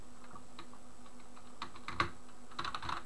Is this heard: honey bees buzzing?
no